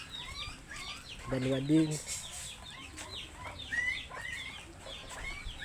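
A chicken clucks close by in a short burst, with faint bird chirps and a brief spoken remark amid quiet rural outdoor background in Talisay, Camarines Norte, Philippines.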